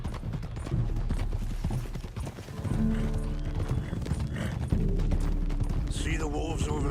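Horse hooves clip-clop steadily during a ride in the video game Red Dead Redemption 2, mixed with a neigh and a game soundtrack, heard under continuous background sound.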